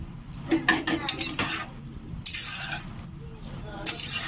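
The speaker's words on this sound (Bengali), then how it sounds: "আমি সব ফলগুলো দিয়ে দিলাম" Fruits tipped into a boiling pot for pickle give several clinks and clatters of utensils against the pot with wet splashing and squishing, close by, while a person talks.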